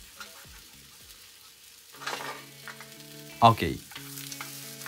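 A rolled Japanese egg omelette fries in a pan with a faint, light sizzle. The pan and utensils bump and scrape in a couple of brief, louder bursts, and a voice speaks one short word.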